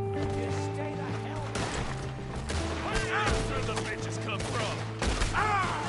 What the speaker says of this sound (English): We're gonna have to shoot our way out.